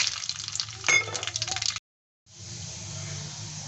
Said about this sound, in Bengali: ফোড়ন দিয়ে দিচ্ছি।